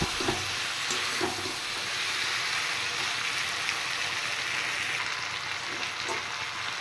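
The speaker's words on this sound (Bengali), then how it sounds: "এবার সবজিগুলো আর একটু কষিয়ে নেব।" Sautéed vegetables and four chopped tomatoes sizzle with spices in a pan for a Bengali fish curry with drumsticks, a steady close frying hiss with occasional stirring scrapes throughout.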